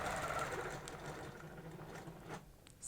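Sewing machine stitching a quilting block guided by a cable ruler, a steady close mechanical whir running through the short span with a slight dip in the middle.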